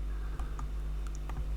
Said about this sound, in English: Trouble is, I'm typing away from the screen.